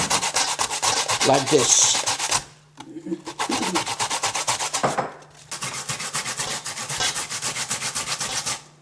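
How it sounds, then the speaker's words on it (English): A single carrot is grated by hand for gefilte fish, a rhythmic rasping scrape repeated in quick strokes across three bursts separated by short pauses, with someone speaking briefly. "you take 1 carrot, you see, 1 carrot, and you grind it in"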